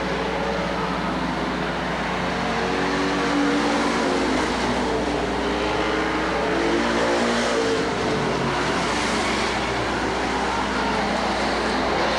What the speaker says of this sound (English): the race right now is for the lead between Kyle Medina and Darren Knight